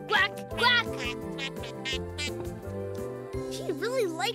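A cartoon duck quacks in the children's animated series Pinkalicious & Peterrific, several bright, squeaky quacks between playful jingling music, fairly close and loud.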